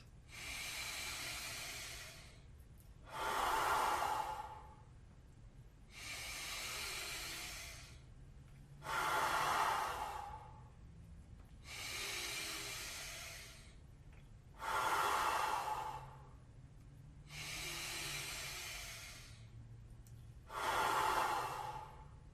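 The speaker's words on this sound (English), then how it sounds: "Keep breathing." A group breathes deeply together in guided breathwork, with long full inhales and exhales alternating in a steady slow rhythm of about eight breaths, fairly close and clear with no talking.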